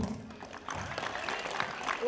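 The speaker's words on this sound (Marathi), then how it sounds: "तुम्ही सर्व जेवढे दोन्ही टीम आहेत ना, पब्लिकसाठी टाळ्या वाजवा बघू." Both kabaddi teams clap for the crowd at a state-level tournament in Panchgani, a short burst of scattered outdoor applause with voices around it.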